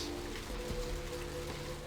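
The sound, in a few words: rain in Vampire: The Masquerade - Bloodlines video game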